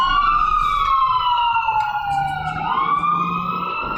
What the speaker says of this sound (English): I got an ambulance that's passing by.